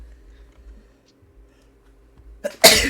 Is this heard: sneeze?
yes